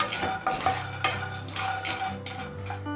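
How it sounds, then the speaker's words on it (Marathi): Peanuts are stirred while roasting in a pan over a low-medium flame, giving brief rattling scrapes and a light clink of utensil on metal, close and fairly quiet with no voices. "तर शेंगदाणे पण थोडेसे भाजून घ्यायचे लो टू मीडियम फ्लेमवरती"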